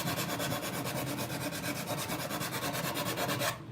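A cheap hand abrasive tool scrapes back and forth along the top edge of a wooden piece to distress it, producing steady, rapid rasping strokes up close that run evenly for a few seconds before stopping.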